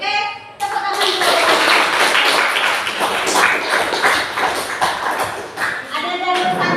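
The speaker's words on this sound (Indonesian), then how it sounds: "tepuk tangan dulu" A group of schoolchildren clapping together in a classroom, dense and continuous for several seconds, close and loud, with voices mixed in.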